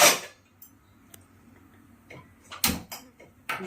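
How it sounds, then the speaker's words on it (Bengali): A gas stove burner is lit in a home kitchen, sharp clicks and knocks of the knob and igniter followed by a brief whoosh, set apart by quiet gaps. "আমি তাহলে গ্যাসটা ধরাচ্ছি"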